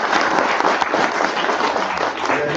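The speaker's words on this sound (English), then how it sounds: "A big clap for them" Sustained applause from an audience honoring teachers at a science event in Shillong, dense and steady clapping throughout without a break.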